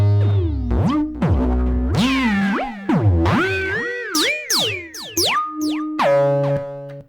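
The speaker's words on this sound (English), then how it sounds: "recorded in a bunch of weird, fucked up noises using the little pitch buttony knob on the System 1 M" Warped, pitch-bending synth noises from a Roland System-1m, sampled while twisting its pitch knob: a series of sweeping, gliding tones rising and falling over about seven seconds, loud and up close with no talking.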